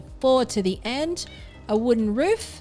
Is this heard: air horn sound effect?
no